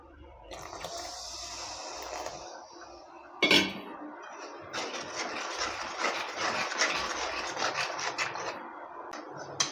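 Milk is stirred in a cooking pan for caramel coconut barfi while it is added bit by bit. A spoon scrapes and rubs against the pan in a steady rasp, with a brief clatter partway through and louder, busier scraping afterward.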